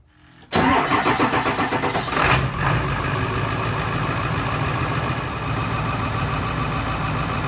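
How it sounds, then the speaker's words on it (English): Diesel engine of a 1999-2003 Ford F250 7.3 Powerstroke truck cranks and fires up sharply, then settles into a loud, steady, rumbling idle close to the microphone. "we're gonna start this old truck up"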